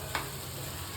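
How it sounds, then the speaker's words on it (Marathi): Tomatoes half-frying in oil in a pan give a steady, soft sizzle, with one brief stir or scrape near the start and no talking over it. "आता मी परत पॅनमध्ये तेल घेतलं आहे, त्यामध्ये टोमॅटो हाफ फ्राय करणार आहे"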